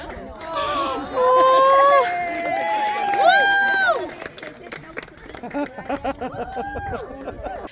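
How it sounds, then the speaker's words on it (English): A crowd cheers and whoops outdoors after a marriage proposal, loud excited voices and shouts with scattered clapping that fade into chatter. "Everybody was cheering and it was so cool"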